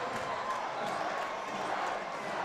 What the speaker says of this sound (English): the crowd just erupted here at Spartan Stadium, as you can hear them